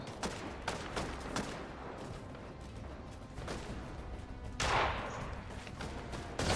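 Rapid gunfire in the battle royale game Fortnite, sharp cracks in quick bursts over a dense backdrop, one louder blast near the end, and no talking.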